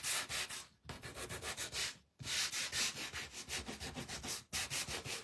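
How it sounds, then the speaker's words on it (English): A Gator sander works over a painted wooden snowman hat craft piece to distress it, a close, loud, rapid rubbing buzz in three long passes with two brief stops. "we're just going to use my gator sander, and we're going to give this some distressing"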